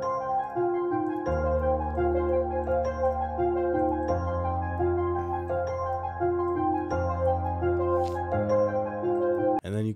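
A bright bell-like melody and a sustained synth line play over deep piano bass notes that change every second or so, steady and loud with no talking.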